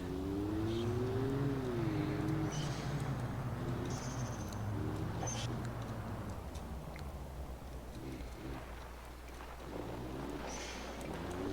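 A Soviet diesel truck engine in the game Automation drones low and rough, its pitch rising in short revving sweeps before easing down to a steadier rumble, with a few more revs near the end.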